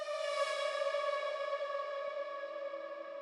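A distorted, reversed female vocal sample sits in an electronic track, a swelling harmonic-rich tone that fades in and sustains smoothly with an echoing, siren-like sheen for about three seconds, with no talking.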